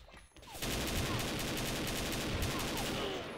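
Golden AK rifle fire in the shooter game XSHOT: a sustained, loud automatic burst of rapid shots that starts abruptly after a short quiet moment and runs steadily to the end.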